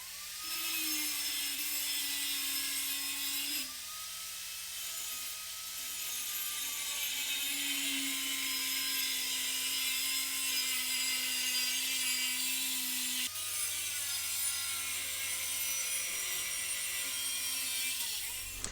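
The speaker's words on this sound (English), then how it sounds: "Get out the angle grinder and give them a cut" An angle grinder cuts into the chassis of a Yamaha Grizzly 700 ATV, a loud high-pitched whine grinding steadily through metal with brief pauses and pitch shifts as the load changes, no talking.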